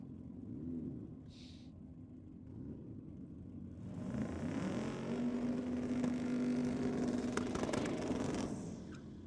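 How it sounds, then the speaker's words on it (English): A turbocharged drag race car runs at a Ford versus Holden theme night. The exhaust rumbles softly and rather muffled at a distance, then swells into a louder, whirring pass lasting several seconds before easing off. "The turbo does that though, doesn't it? It changes the exhaust note makes it almost sound like doughy"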